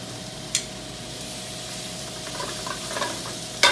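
Fusilli pasta and broccoli, tossed in olive oil, go into a hot pan with a soft sizzle and stirring rustle, marked by two sharp clatters near the start and end.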